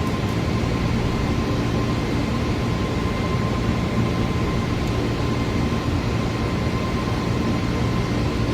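An A320neo airliner in Microsoft Flight Simulator accelerating down the runway on its takeoff roll, with a steady, loud engine roar and a faint high tone held evenly throughout.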